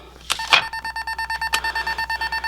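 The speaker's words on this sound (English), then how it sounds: "And it's beeping and shows me number 6." Rapid electronic beeping from a TempoTreadle counter, a steady train of short even tones repeating about five times a second, preceded by a couple of clicks and a brief clatter.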